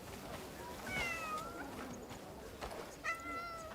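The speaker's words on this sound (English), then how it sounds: "Oh, that's one of those Varnasian cats." A Varnasian cat in the video game Crimson Desert meows twice, with thin high tonal calls close by, a short one followed by a longer, more drawn-out cry over a soft ambient background.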